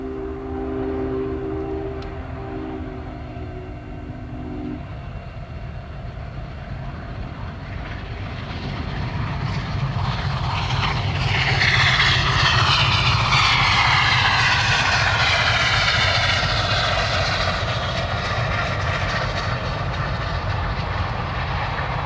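The Union Pacific 844 steam locomotive charges through Big Springs, Nebraska. A distant rumble swells about midway into a loud, sustained roar as the engine draws near and keeps running close by, with no talking.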